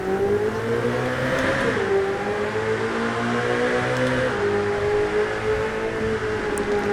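Ferrari F8 Tributo engine in Grand Theft Auto 5 revving steadily through a tunnel, a loud continuous drone whose pitch climbs, dips around two seconds and again near four seconds, then holds, with no talk.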